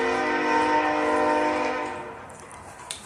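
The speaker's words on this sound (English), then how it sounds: "We are right next to the train tracks." A loud, sustained train horn blares with a steady chord, then fades away as the train rumbles past.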